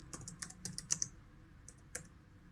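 Quick keyboard typing on a computer keyboard, a few close key clicks in short bursts with a pause between them, heard alone with no talk.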